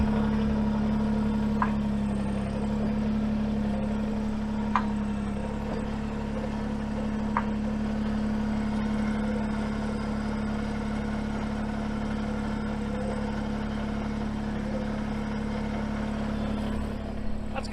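A Kubota tractor engine idles steadily close by, a low even hum with a few faint clicks over it.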